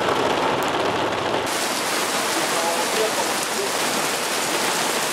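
Heavy, sudden rain pours down in Balıkesir during a flooding downpour, a dense steady roar of rain on surfaces that fills the whole clip at close range.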